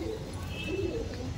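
Kolkata breed pigeons cooing in low, throaty murmurs that run steadily through the moment, close by, with background noise and a faint voice-like presence underneath.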